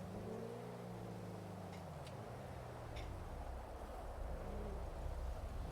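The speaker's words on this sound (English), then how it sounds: "So much traffic." Engines of cars in GTA RP on the NoPixel server, a steady low drone of motors with rising and falling pitch as vehicles accelerate and pass, plus a few faint ticks.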